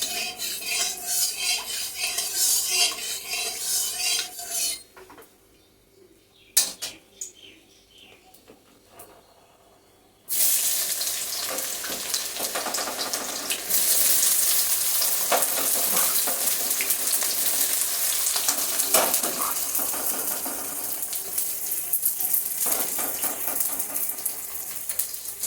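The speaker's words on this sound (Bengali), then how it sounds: "অর্ধেকটা নেব বেরেস্তা ভাজার জন্য" Sliced onions fry in oil for chicken biryani beresta with a loud, steady sizzle, interrupted early by a quiet stretch with clinks and utensil scrapes before the hissing returns strongly.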